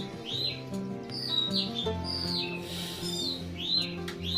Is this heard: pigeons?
yes